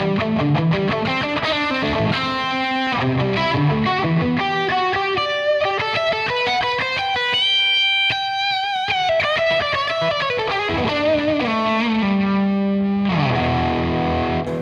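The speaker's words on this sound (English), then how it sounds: "I'll switch it and start on the overdrive." Electric guitar played through a Maxon RTD800 overdrive pedal, producing a continuous crunchy, distorted lead line with sustained bent notes and held chords, close and loud with no talking.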